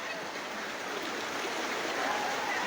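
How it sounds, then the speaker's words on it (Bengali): Heavy floodwater current surging through a village where water has entered the houses, a constant close rushing wash with a faint honking bird-like sound mixed in. "পানির স্রোত অধিক পরিমাণ"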